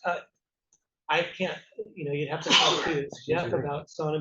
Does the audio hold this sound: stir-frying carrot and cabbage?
no